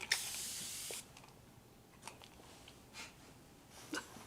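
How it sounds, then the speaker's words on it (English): An Aqua Mist spray bottle puffs a fine water mist used over watercolors, one strong hissing burst at the start lasting about a second, followed by several short, fainter spritzes spaced through the rest. "the continuous spray that comes out of this thing is beautiful"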